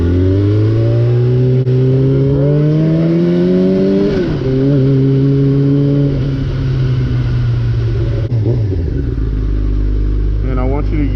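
A motorcycle engine drones and rises with the throttle as it is ridden, pitch climbing and falling with gear changes, then settling to a lower idle-like rumble near the end; a voice is heard briefly over the engine.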